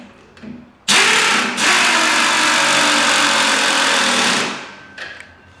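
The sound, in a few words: tightening golf cart shock bolt with a tool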